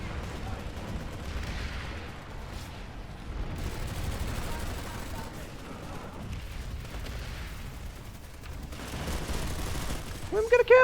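A large PlanetSide 2 battle with a dense, steady wash of distant explosions and rattling gunfire throughout, rising into sharper bursts near the end.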